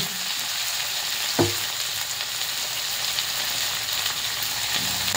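Chopped tomato tossed into garlic and onion sautéing in a pan, a steady hiss of frying with a single clunk as it lands, then continued sizzling.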